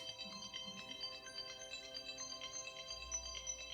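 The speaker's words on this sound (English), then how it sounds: "My phone is ringing." A mobile phone ringtone going off in a room during an exercise class, a faint, repeating melodic tone running steadily beneath low background sound, no one speaking over it.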